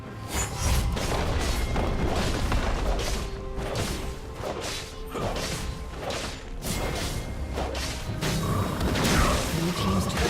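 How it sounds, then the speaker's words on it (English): A turret destroyed in League of Legends: loud crashing and booming impacts with whooshes and mechanical clanks layered over dense game sound, continuous throughout, with a voice talking. "Blue team's turret has been destroyed."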